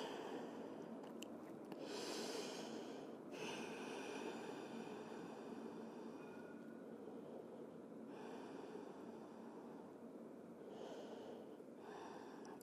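Slow, steady breathing in a yoga child's pose during an intermediate upper-body strength session, with long airy inhales and exhales repeating over a constant low background hum.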